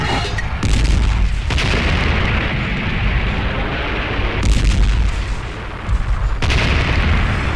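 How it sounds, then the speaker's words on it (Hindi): Heavy artillery fire and explosions on the night of a 1971 desert battle, a dense continuous barrage of loud booms with surging bursts and rumbling blasts throughout, no voices. "4 दिसंबर 1971 की रात करीब 12:30 बजे पाकिस्तान की तरफ से आर्टिलरी फायरिंग शुरू कर दी गई।"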